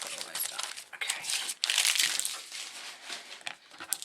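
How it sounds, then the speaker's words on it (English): Plastic packaging rustles and crinkles as it is opened, close and fairly quiet, with bursts of crackling that come and go over a few seconds. "Sorry about the rustling with the plastic."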